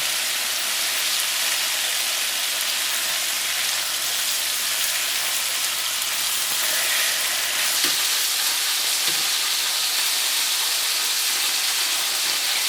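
Slices of pork loin fry in a pan, a dense, loud, continuous sizzle with steady crackle and spatter heard up close throughout, no speech.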